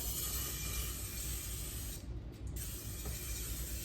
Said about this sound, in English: we're gonna spray this real good with some cooking spray